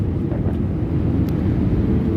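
A passenger airplane on a flight from London lands at Rome's Leonardo da Vinci airport, heard from inside as a constant, heavy low cabin roar.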